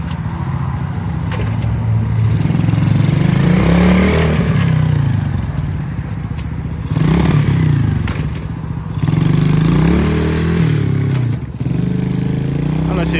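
A 125cc Coolster ATV engine runs steadily and close while reversing, a continuous droning idle that rises briefly at times, with people talking over it.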